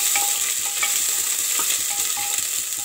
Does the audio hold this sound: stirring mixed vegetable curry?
yes